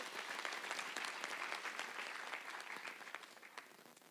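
An audience at a women achievers celebration applauds the First Lady, a sustained round of many hands clapping that starts full and gradually thins out toward the end, heard from some distance.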